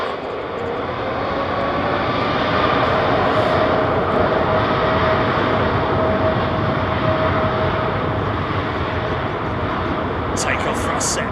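Airliner jet engines spooling to take-off thrust at London Heathrow, a loud, steady broadband roar that holds throughout with a faint rising whine underneath.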